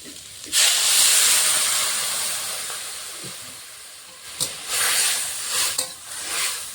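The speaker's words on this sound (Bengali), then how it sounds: "সবজির সঙ্গে লঙ্কাটা কষানো হয়ে গেছে, এখন জল দিয়ে দেবো" Water poured into a hot pan of chillies and mixed vegetables for a Bengali small-fish curry with dried mango, producing a loud, sustained hiss that erupts and then slowly fades, with a few sharper sputtering bursts later.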